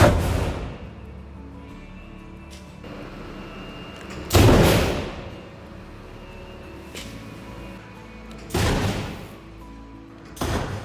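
A test explosion bursts out through a paper cover over an entrance, heard as sharp loud blasts, the biggest at about the midpoint and another strong one later, with smaller thuds between and decaying rumble after each.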